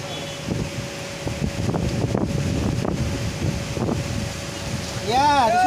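Wind and rain at night make a steady, rushing roar that swells slightly louder toward the end, where a brief chirping call cuts through.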